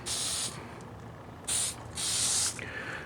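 Spray paint lightly misted onto a scooter part for a 2014 Dio in race colors: three short hissing bursts from a nearby aerosol can, the last one longest, with quiet pauses between.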